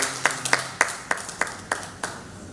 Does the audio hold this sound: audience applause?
yes